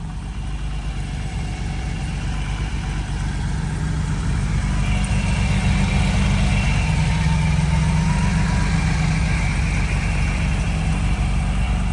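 A 1975 Porsche 911 coupe engine idles steadily, close and loud, with a low continuous rumble and a faint rise in level midway through.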